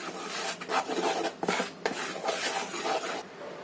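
Steady scraping and rubbing of a utensil working thick chicken dim sum dough in a bowl, in repeated close strokes with no talking.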